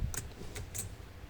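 A few sharp keystrokes on a computer keyboard while typing program code, three crisp clicks spaced across a short stretch with a low hum underneath.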